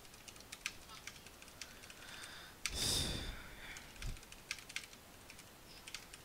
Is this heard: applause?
no